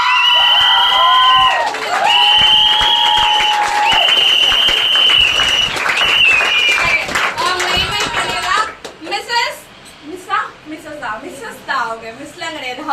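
An audience at an achievers' program celebration claps and cheers loudly in sustained applause, with whoops and shouts over it, fading into scattered voices and lighter clapping toward the end.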